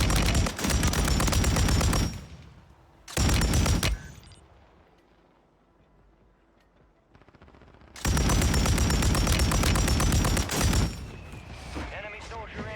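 Sustained bursts of PKM machine gun fire in Call of Duty Warzone, loud and dense, with a quieter stretch of ambient game noise between them and a voice speaking in the background.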